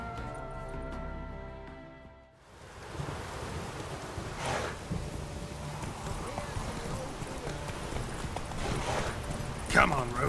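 Geralt's horse Roach gallops in The Witcher 3, hooves clip-clopping in a steady rhythm over wind and rushing ambience, following a short stretch of music; no one speaks.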